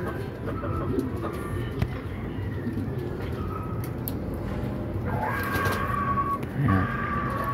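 A racing pigeon lands on a rooftop on returning home during a 149 km training toss from Gumaca, Quezon, with soft cooing and brief wing flutters amid outdoor ambience and other birds nearby.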